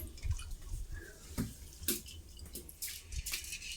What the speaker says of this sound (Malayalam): ഇങ്ങനെ വെള്ളം എല്ലാം പോയി തീരണം.